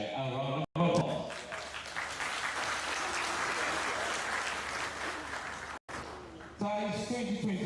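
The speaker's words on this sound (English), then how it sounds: "a round of applause" Applause from a conference audience at the Telkomcel Annual International Summit in Timor-Leste, a sustained crowd clapping between short breaks, with an announcer's amplified voice before and after it.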